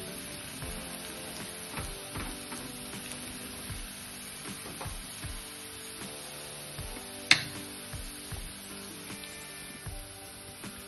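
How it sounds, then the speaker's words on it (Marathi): Onion and mixed vegetables sauté in a pan for masala Maggi with a faint, soft crackle, broken by regular light taps and scrapes of a spoon and one sharper clink. "साधारण अजून 1 मिनिट आपण परतून घेऊया, म्हणजे सर्व भाज्या आणि कांदा छान परतून होईल।"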